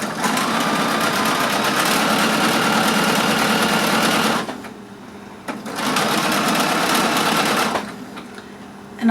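Sewing machine stitching together quilt border pieces, a steady loud mechanical whir running in two long bursts with a brief pause between them, no talking.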